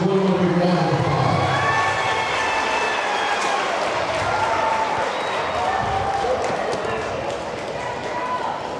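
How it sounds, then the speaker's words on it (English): Sustained crowd applause and cheering in a school gym honoring cheerleaders at a girls' basketball game between Unaka Lady Rangers and North Greene, a steady dense roar with no break, a faint voice over it. "Let's give our cheerleaders one more big round of applause."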